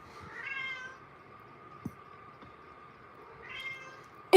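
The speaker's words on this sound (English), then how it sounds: "He just does this meowing thing." A house cat meows twice, a drawn-out call near the start and another near the end, close and fairly soft in a quiet room, with a faint tick between and a bump at the very end.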